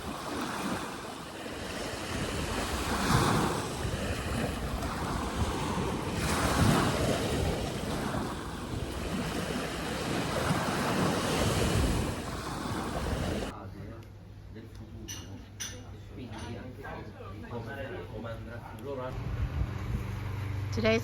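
Rough sea surf and gusty wind on the Sicilian coast roar loudly and steadily, then the sound shifts to a closer, muffled wash of water with wind buffeting the microphone.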